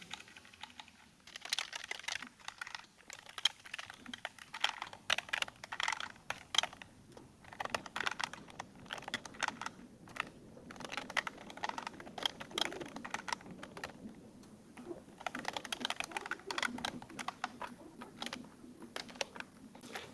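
A computer keyboard is typed on continuously while HTML table code is written, a dense, fast patter of soft key clicks with brief pauses, close but fairly quiet and with no speech.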